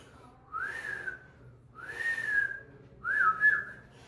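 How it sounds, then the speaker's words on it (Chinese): A whistle-like crested serpent eagle call sounds as three drawn-out, clear whistled notes, each rising then slurring down, spaced about a second apart over a quiet background, with no talk. "我们说大冠鸠，它的叫声有点像这样"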